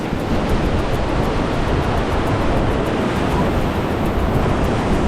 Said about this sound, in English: When the water's high, the waves coming off this rock is crazy.